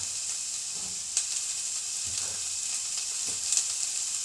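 Chorizo sausage frying in a pan with diced carrot and celery, making an even, close sizzle and hiss with a few faint pops and clicks throughout.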